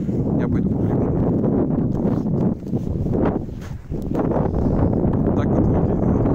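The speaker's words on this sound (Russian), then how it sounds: "И сильный ветер. Ветер усиливается." Strong wind gusts by an icy river, roaring steadily as a loud, dense rush against the microphone with a brief dip midway before surging back.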